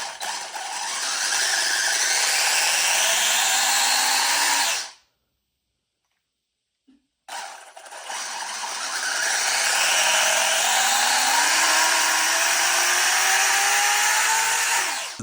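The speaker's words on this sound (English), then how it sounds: "This is the dual motor setup. 2 motors on each side." Dual-motor Haiboxing RC car with two motors per side, its electric motors whining loudly and steadily up close, cutting out for a couple of seconds before spinning back up with rising pitch.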